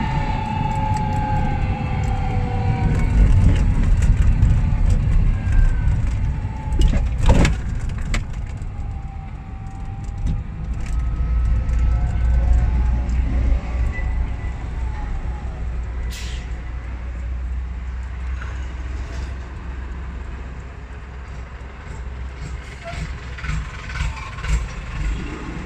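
A JI005 two-seat electric mini cabin scooter drives along a road in high speed mode, giving a steady low rumble of road and motor noise with occasional rattles and knocks throughout, no talking.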